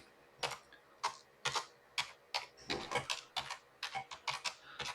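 Keys on a computer keyboard are tapped in short irregular bursts, with clear individual clicks close by and no talking.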